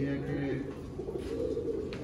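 A golden pigeon coos in low, soft repeated calls, close by, against faint background noise and voices.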